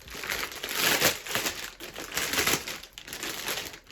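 Plastic packaging crinkles and rustles steadily up close for several seconds, with no talking.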